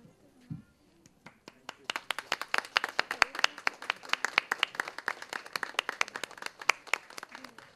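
An audience at a children's event claps, starting with a few scattered claps and quickly building into dense, steady applause that continues to the end.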